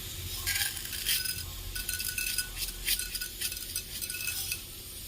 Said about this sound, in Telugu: ఇప్పుడు తాలింపు వేసుకుందాం. ఇందులో ఫస్ట్ మినప్పప్పు వేసుకుందాం.